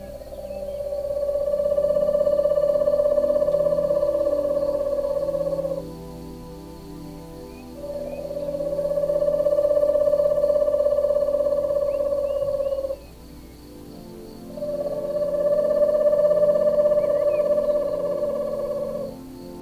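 An owl calls in three long, steady hoots, each lasting several seconds with short pauses between, loud and close with no other sounds around.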